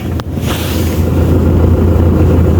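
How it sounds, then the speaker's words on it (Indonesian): Heard from inside, a Toyota Hilux pickup begins to roll as the clutch is eased out, its engine giving a steady low rumble under a broad wash of wind-like noise, loud and close throughout. "Nah, ini mobil mulai bergerak ya teman-teman ya."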